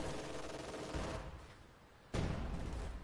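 Artillery fire rumbles in a Company of Heroes 2 battle. Dense, continuous booms and gunfire fill the mix, ease off briefly, then swell again with a heavy fresh blast.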